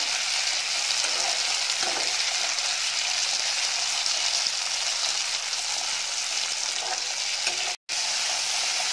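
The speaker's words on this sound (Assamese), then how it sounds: "এইখিনি ভাজিব লাগিব এতিয়া বিলাহীখিনি অকণমান গলি যোৱালৈকে" Loud, constant sizzling of tomatoes frying in a wok, with faint stirring scrapes and a brief cut to silence near the end.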